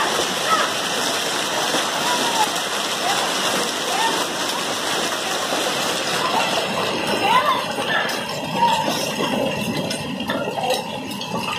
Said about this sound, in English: I'm gonna show you the rain of ice cube